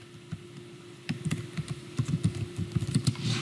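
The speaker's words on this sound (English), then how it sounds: "if you go here and type in RulesManager" Computer keyboard keys typed in a quick irregular burst, close and fairly quiet, starting after a brief pause and continuing steadily to the end with no talk.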